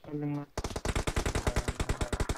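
Rapid automatic gunfire from the mobile battle royale game PUBG Mobile, a fast steady stream of loud cracks after a short tonal game sound, with faint voices in the background.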